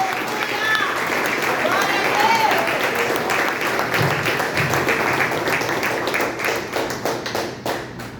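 A church congregation applauds during a Sunday evening service, dense clapping that thins into scattered, more distinct claps toward the end, with voices audible underneath.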